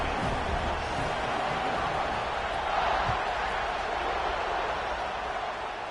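A football stadium crowd at a college game buzzes in a constant, fairly loud murmur after a score, with a few faint thumps beneath and no single voice standing out.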